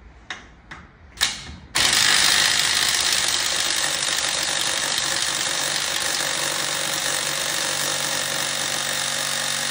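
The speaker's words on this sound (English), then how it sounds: "Now let's use this DeWalt to take it off." DeWalt impact driver working on a bolt, a few short clicks and bursts first, then a loud, continuous buzzing rattle of hammering close by for several seconds.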